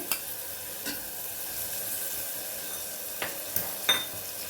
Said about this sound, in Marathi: आणि हे छान परतून घ्यायचे मस्त सर्व मिक्स करायचे आपल्याला